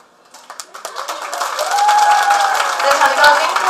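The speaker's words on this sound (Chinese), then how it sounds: "再给我们的新娘子热烈掌声。" Wedding reception guests applauding the bride, scattered claps quickly swelling into sustained, dense applause from a large crowd that stays loud to the end.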